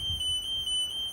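A Niftylift HR17 lift basket overload alarm sounds loud and near as a continuous high electronic tone with brief dips, pulsing in a steady pattern.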